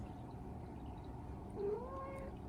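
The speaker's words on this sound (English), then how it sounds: "The cat's just coming over here." A cat moves about close by, letting out a short meow in the middle of the stretch and a higher, drawn-out meow near the end, over a steady room hiss.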